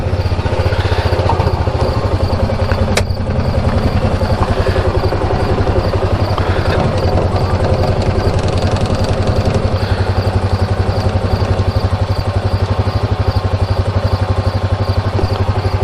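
Motorbikes and a Honda Pioneer 500 side-by-side idling together before a trail ride, a loud, continuous low engine rumble with steady throbbing pulses and a sharp clank near the start.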